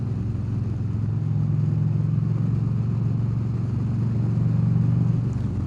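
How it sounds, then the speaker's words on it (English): A 2023 Harley-Davidson CVO Street Glide with the 121 V-twin accelerating, a deep, steady, throbbing exhaust drone that rises slightly in pitch, loud and close with wind noise and no talking. "Bike sounds good. It's quick too."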